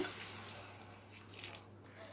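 Water splashes and trickles steadily for a couple of seconds as a little is poured into a cooking pot of greens, a soft pouring sound against a quiet background.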